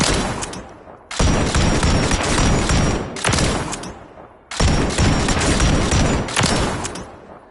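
A heavy, mounted LMG-style gun in Call of Duty MW3 fires in two long, loud bursts of rapid automatic rounds, split by brief gaps, each burst trailing into a short echoing decay.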